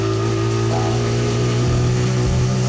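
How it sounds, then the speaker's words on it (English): A single-cylinder 12-horsepower engine runs steadily in a small vintage car with a manual gearbox, a loud, close, continuous droning hum with a slight rise in pitch as it is opened up, no talk over it. "Having mastered the gearbox, it was time to open up the single-cylinder, 12-horsepower engine."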